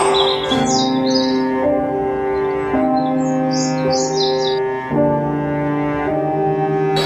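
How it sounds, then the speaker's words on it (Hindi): Bird chirps flutter in short bursts over a sustained musical background of held tones. "वहां से एक चिड़िया जा रही थी।"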